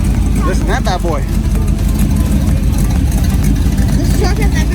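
A lifted truck idles loudly at a four-wheel-drive truck show, its deep rumbling engine steady and close throughout, with people talking over it.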